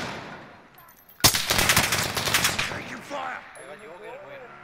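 Gunfire in Call of Duty: Modern Warfare: a sudden loud burst of rapid automatic shots that rattles for about two seconds and then fades into scattered echoes, with voices talking faintly afterward.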